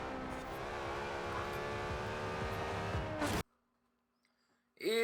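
A Porsche race car in Forza Horizon 4, its engine screaming at high revs through corners with a dense, steady roar, then cutting abruptly to near silence before the engine bursts back at the end.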